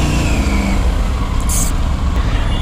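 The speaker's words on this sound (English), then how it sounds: "Engine sounds refined, guys." A Triumph Tiger 900 motorcycle engine runs loudly and close by, with a steady low throbbing idle and no speech over it.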